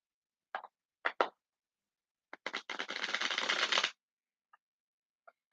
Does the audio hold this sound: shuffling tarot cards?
yes